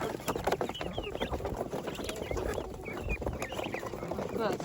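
Farmyard chickens and ducks cluck and squawk while being fed, a busy mix of bird calls close by with a voice talking intermittently through it.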